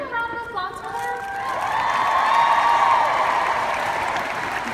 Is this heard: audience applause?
yes